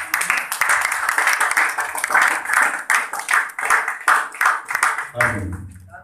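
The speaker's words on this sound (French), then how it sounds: "Est-ce qu'on peut acclamer cette parole?" A church congregation applauding, a steady roar of many hands clapping with rhythmic pulses throughout, fairly loud and close, fading out at the end as a voice begins to speak.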